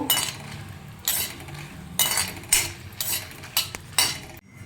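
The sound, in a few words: dried red chillies being fried and stirred in a pan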